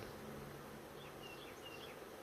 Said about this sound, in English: There's a large ball of bees there on that stand